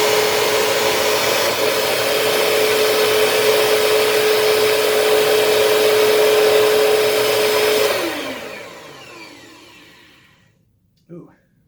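A Bissell CleanView Special Edition 3575-8 upright vacuum cleaner, with a brush roll suspected of hot bearings, runs with a steady loud whine and roar, then powers down and fades out, followed by a brief faint knock.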